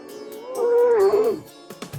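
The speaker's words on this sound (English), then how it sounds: "I could hear the lions growling" Lions growling in a den, a single deep, drawn-out rumbling growl that swells loud and close, wavers, then fades, followed by a couple of short thumps and a brief low grunt.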